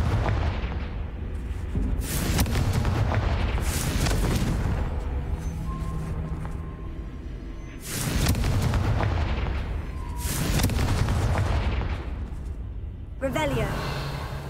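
Heavy, booming explosions from the Confringo blasting spell in Hogwarts Legacy hit in quick succession, each with a rumbling roar and tail, followed by a short crackling burst at the end.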